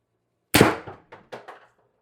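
A single sharp blaster shot from an X-68 Storm Trooper blaster build fires with a loud bang, followed by a short decaying rattle and a couple of faint echoing clanks, with no talk.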